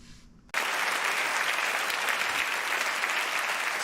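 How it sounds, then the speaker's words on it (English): Loud audience applause erupts suddenly at a Nate Bargatze stand-up comedy show in New York, a dense, sustained burst of crowd clapping after a brief quiet moment. "Applause break."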